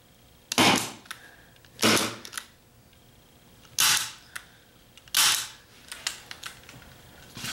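Sharp staple gun shots drive staples through a beaver pelt into a wooden stretching board, four loud separate bangs spaced about a second apart, each followed by smaller clicks and rustling.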